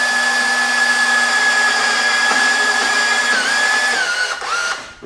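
A Dynasty 200 DX TIG welder holds a steady, loud electric buzz with a high whine that stays level for several seconds, then wavers and cuts off near the end.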